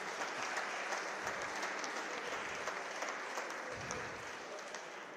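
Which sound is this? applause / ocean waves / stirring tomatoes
applause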